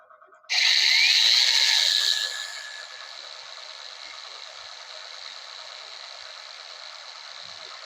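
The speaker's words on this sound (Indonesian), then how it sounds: "Ini untuk gerinda cordless ya, teman." A cordless angle grinder spins up sharply with a loud whine for about two seconds, then settles into a steadier, quieter high-pitched running hum until the end, alone with no talking.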